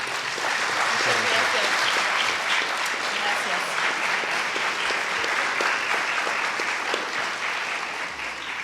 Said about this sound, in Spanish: Si se unen conmigo para darle un aplauso de agradecimiento, por favor.